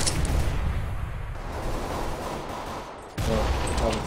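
Dense, loud gunfire in a Counter-Strike match on the Inferno map, a continuous roar of shots and noise that drops briefly and then surges back.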